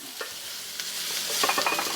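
Beef browning in a frying pan for an Asian beef dish with mushrooms and peas, a close, steady sizzle with a few sharp scraping stirs and crackles, no talk.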